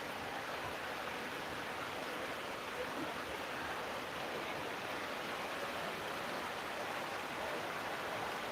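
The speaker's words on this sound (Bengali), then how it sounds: "আমাদের এখানে এখন বৃষ্টি হচ্ছে" Steady rain hisses evenly outside, a constant soft wash of sound with no breaks and no voices.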